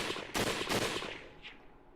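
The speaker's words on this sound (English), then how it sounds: "The guns exploded with noise." Gunfire in the video game Hakuoki: Kyoto Winds, heard as two quick, sharp bursts close together, followed by a softer fading tail and a faint brief chime.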